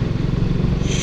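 Suzuki Gixxer motorcycle engine running steadily while riding in fifth gear at low speed, a continuous low rumbling drone with constant road and wind noise, close and loud.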